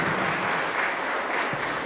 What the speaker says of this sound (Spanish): Aplauso para la pareja, para el matrimonio